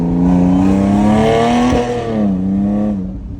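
An Audi S5 engine revs with a strong, steady tone, then the transmission downshifts and the pitch jumps before settling, loud and close.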